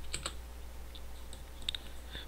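Typing on a computer keyboard, a few light, sparse key clicks in quick bursts against a quiet background, close but soft.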